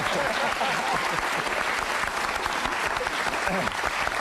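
A studio audience on a 1989 talk show with the Murphy Brown cast applauds steadily, thick continuous clapping that fills the whole stretch at an even level.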